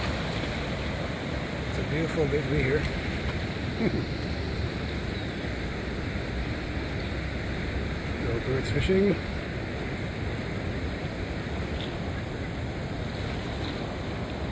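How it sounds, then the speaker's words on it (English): Steady, broad rushing roar of high water at the Lachine Rapids, constant and fairly loud, with wind buffeting the microphone and someone talking briefly over it. "Here we are at the nice Lachine Rapids."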